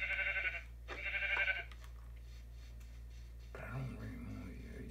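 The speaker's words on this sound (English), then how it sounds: "Another sheep right here." Two quick Minecraft sheep bleats sound in succession, followed after a pause by a lower, longer bleat; all are quiet and fairly close.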